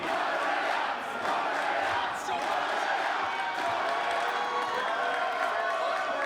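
Wrestling arena crowd at a WSW tag team championship event, cheering steadily and loudly for the hometown team throughout, a dense continuous roar with no clear breaks.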